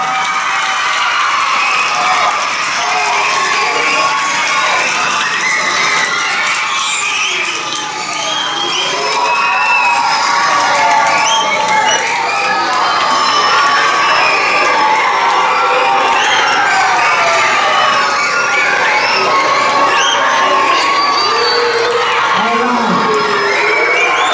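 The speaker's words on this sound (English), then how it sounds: "Give her a round of applause" A crowd at a track meet cheers, whoops and applauds loudly and without letup, with children shouting among the mass of voices, a sustained roar lasting well over twenty seconds.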